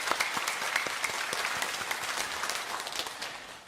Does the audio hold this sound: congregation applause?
yes